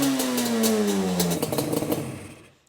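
A Yamaha Banshee ATV engine fires on the first kick and revs briefly, a loud, close two-stroke buzz with a falling pitch, then it settles into a rough, sputtering idle before cutting out.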